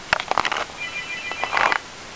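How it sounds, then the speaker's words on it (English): A telephone rings in a room, with short bright bursts of ringing that come and go over about two seconds. It is moderately loud and nobody speaks. "Don't answer the phone."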